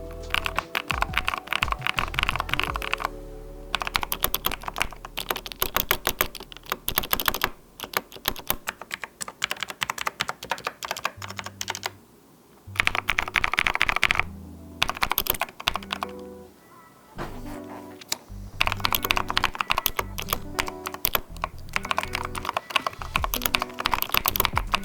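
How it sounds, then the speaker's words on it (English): Rapid clacking keystrokes on a mechanical keyboard modded with electrical tape come in bursts, with deep, muted thocky clicks and short pauses between runs of typing. "let's see how this keyboard sounds after all that modification we did to it"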